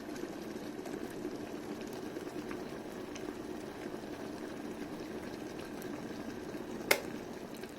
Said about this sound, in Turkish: Şu anda suyumuz kaynıyor.